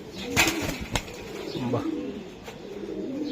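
Pakistani high flyer pigeons coo softly and flap wings nearby, a few short bursts amid faint background noise.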